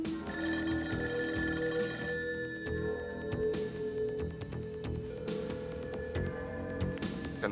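Telephone ringing unanswered after a factory number is dialed, a repeated bright bell ring pulsing steadily over a low background hum, no voices.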